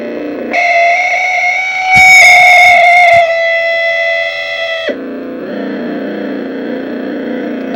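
A loud, sustained distorted guitar chord from a distortion effect pedal buzzes with a thick harmonic fuzz, swelling briefly louder midway before dropping to a grittier, lower drone.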